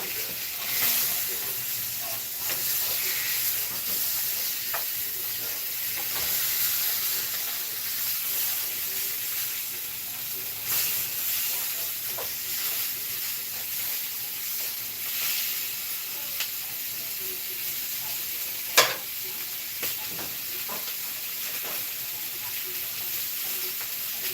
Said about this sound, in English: maybe medium to medium high, just to get a nice sear